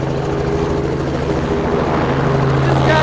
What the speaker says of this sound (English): This guy's really flying a helicopter right behind him.